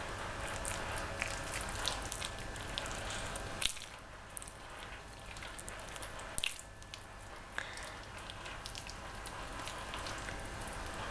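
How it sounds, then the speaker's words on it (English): Hands squish a wet homemade leftover burger mixture into balls, giving soft, close, quiet squelching and sticky slapping sounds in irregular bursts, with a few sharper pats and no voice. "you just want to squish them lightly into balls like so"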